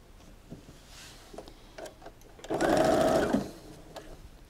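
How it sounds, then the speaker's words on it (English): A sewing machine stitches a quarter-inch quilt seam in a brief, steady whirring burst of about one second, preceded by light handling noises. "So let's go over the sewing machine and do that."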